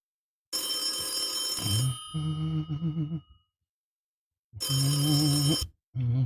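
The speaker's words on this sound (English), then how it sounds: "Why don't we take a quick phone call?" A telephone rings for an incoming call during a live stream: a loud electronic ringtone plays in two bursts separated by short silences, with nobody talking over it.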